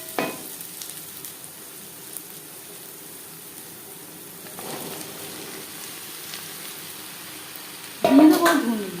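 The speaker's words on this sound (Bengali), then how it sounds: "পেঁয়াজ অবশ্যই লালচে করে ভাজতে হবে।" Sliced onions and slit green chilies fry in oil with a faint, even sizzle and an occasional stir, ending in a brief louder clatter.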